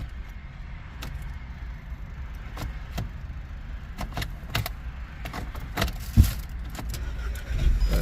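A key goes into the ignition of a 2013 VW Passat with a dead battery: light key jangles and several small clicks inside the car, followed by a louder thump, close and with no talk.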